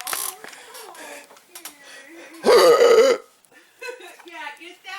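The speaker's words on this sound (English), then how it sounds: "There's the hiccup burp." Hiccup burp from a 71-day-old baby, one short, loud, throaty burst in the middle of the stretch, with adult voices talking quietly before and after it.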